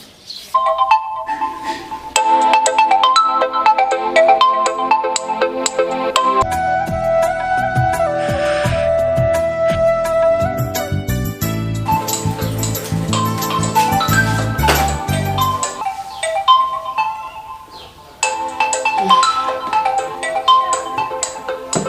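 A mobile phone ringtone plays a bright, looping electronic melody for about twenty seconds, loud and continuous, with a fuller stretch in the middle before it returns to the thinner chiming tune; no one speaks over it.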